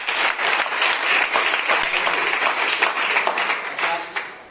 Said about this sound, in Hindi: अपने लिए और सर्व धर्म के लिए एक बार जबरदस्त तालियां मारें।